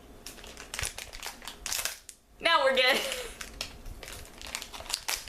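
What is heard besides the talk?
scissors cutting open plastic packaging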